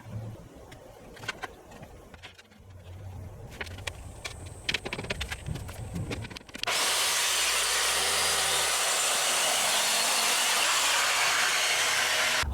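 A router fitted with a small cutter bites into solid timber for the cabin sole of a steel sailing yacht. After some quiet, scattered workshop knocks, it bursts into a loud, steady, continuous roar that lasts to the end.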